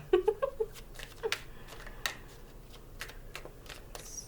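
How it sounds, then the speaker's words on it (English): Tarot cards are shuffled close up in light, irregular papery flicks and taps, quiet and scattered, with a few soft clicks early on. "my cards suddenly don't want to shuffle"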